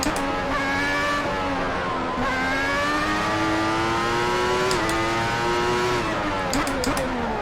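The 1994 Williams Formula 1 car in the Assetto Corsa racing game howls at high revs as a loud, continuous engine note that climbs steadily with quick dips at gear changes, alongside faint clicks.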